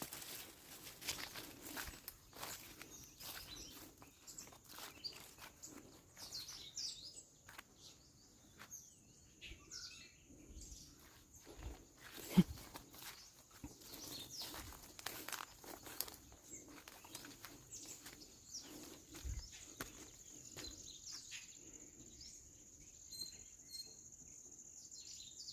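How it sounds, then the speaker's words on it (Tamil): Scattered bird calls and chirps ring faintly through a dense mountain forest, with insect buzz, occasional rustling footsteps and quiet ambient background throughout. "இந்த பறவையோட சத்தம் எப்படி இருக்குது பார்த்தீங்களா?"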